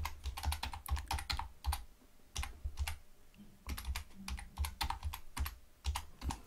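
Rapid clicking of computer keyboard keys as a caption is typed, bursts of keystrokes with short pauses between, close and fairly quiet.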